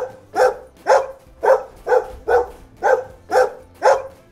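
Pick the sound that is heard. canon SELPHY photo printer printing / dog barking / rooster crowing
dog barking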